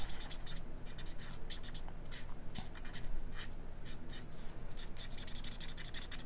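A pencil sketching lines on paper before an alcohol ink painting, with quick rhythmic scratching strokes coming in short bursts, close and fairly quiet, without speech.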